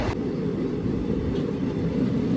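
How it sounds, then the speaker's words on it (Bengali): A train stands at Cuttack station, giving a steady low rumble and hum close by with no clear speech over it. "তো আমাদের ট্রেনটা এখন এসে দাঁড়িয়েছে কটক স্টেশনে"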